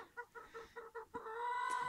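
Chickens in a composting henhouse cluck in a quick series of short, evenly spaced calls, close and fairly clear, ending in a longer drawn-out squawk.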